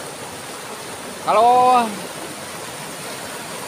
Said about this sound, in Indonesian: Air sungai ya.